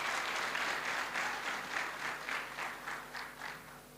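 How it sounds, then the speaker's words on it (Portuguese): An audience at a youth dialogue event with Angola's president breaks into sustained applause for a young entrepreneur, a dense crowd of clapping that swells and ebbs over four seconds with no voices on top. "Uma salva de palmas, por favor."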